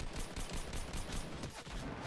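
Rapid gunfire in a Fortnite match, a dense stream of sharp shots repeating steadily for about two seconds, fairly faint and distant with no talk over it.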